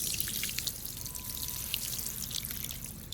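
Water pours steadily onto the soil at the base of a flowering plant, a continuous splashing trickle with soft gurgles, no voices.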